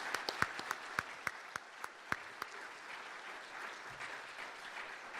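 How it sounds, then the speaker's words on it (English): A forum audience claps after a thank-you, sharp distinct hand claps at first that thin out and blend into a soft, continuing patter of applause. "Please give them a round of applause"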